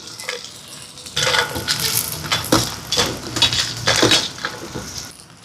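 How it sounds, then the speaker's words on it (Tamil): Coconut sambal with chillies being pounded for Jaffna-style dosa, repeated clattering knocks and scraping in steady bursts, close and fairly loud after a quiet start, with a low background hum and no talk. "வதங்குறதுக்குள்ள சம்பல் அடிப்போம் மிளகாயை சேர்ப்போம்"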